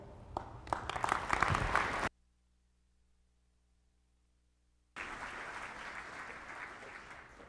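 At a military graduation ceremony, an audience bursts into loud applause, stops abruptly into near silence for a few seconds, then claps again in a sustained round.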